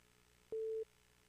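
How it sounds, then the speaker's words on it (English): A single steady electronic telephone tone sounds for about a third of a second, loud and clean against faint background hiss, as an incoming call comes through on a phone during a livestream. "And now we got a phone call."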